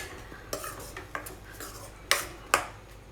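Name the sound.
stirring tomato puree in a pan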